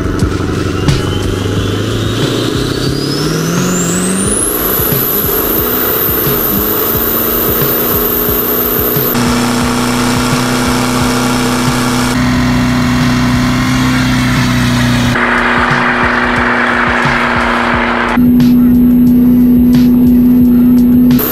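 A 2011 Ford pickup with a 6.7L PowerStroke diesel and stock transmission does a tire-shredding burnout, its engine droning hard and steady while a high whine climbs with the spinning wheels, running loud and continuous for about twenty seconds.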